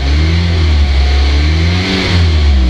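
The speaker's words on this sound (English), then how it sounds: "it doesn't have a very powerful engine sound at all" A 2016 Mazda MX-5 Miata engine hums and revs gently, a smooth but thin, lawnmower-like drone rising and falling slightly, close by.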